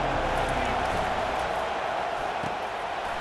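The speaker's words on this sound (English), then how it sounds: "This crowd bringing an ear-splitting welcome to their visitors." Loud stadium crowd in a college football video game, a steady, dense roar of cheering that holds throughout, with commentary talk over it.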